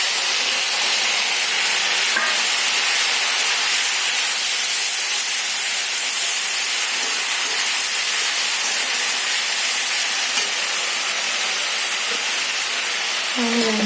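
Spice mixture with turmeric and salt sizzling in hot oil, a loud, steady, hissing fry that runs unbroken from start to finish.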